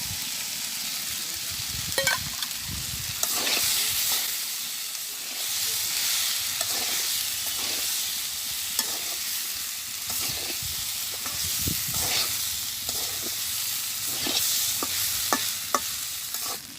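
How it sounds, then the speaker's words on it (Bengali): Prawns fry in a hot pan with a constant close sizzle, while a utensil scrapes and taps the pan at irregular intervals as they are stirred, and no one speaks. "এখন চিংড়ি মাছটা দিয়ে দেই।"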